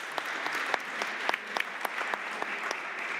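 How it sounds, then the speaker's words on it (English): Conference audience applauding a panel at the end of a discussion, a sustained wash of clapping from a hall with distinct sharp individual claps popping out, no speech. "Let's give them a nice round of applause."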